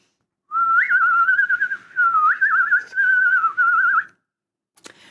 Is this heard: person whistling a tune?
yes